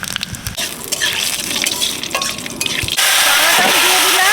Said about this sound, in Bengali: পাঁচ ফোড়ন আছে, গোটা শুকনো লঙ্কা আর তেজপাতা ফোড়ন